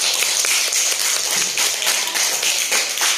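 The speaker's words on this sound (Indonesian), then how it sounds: "Ya, tepuk tangan banget." An audience claps steadily and evenly, the dense patter of many hands forming a continuous bright wash that holds at the same level throughout, with no voices over it.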